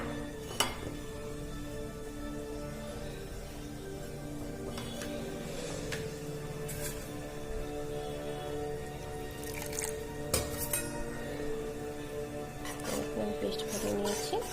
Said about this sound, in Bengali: এটা একসঙ্গে দিয়ে আমি একটু জল দিয়ে পেস্ট বানিয়ে নেব।